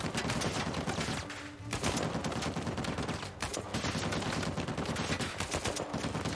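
Rapid gunfire from a weapon in Uncharted 4 crackles in dense, loud automatic bursts that nearly fill the whole stretch, broken by a couple of short pauses.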